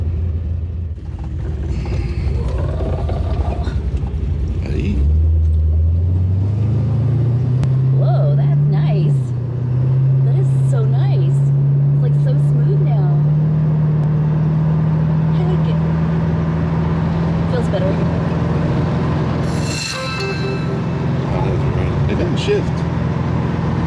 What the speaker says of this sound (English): So we're letting the car warm up for a second, and we're gonna take off